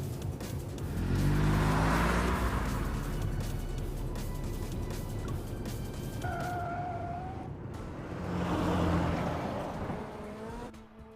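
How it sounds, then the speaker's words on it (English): A video game car engine roars and revs as the vehicle speeds through streets, with the pitch rising and falling through gear changes. It stays loud and continuous, with no voices. "The car emerges from the tunnel and races through the streets of the killing zone."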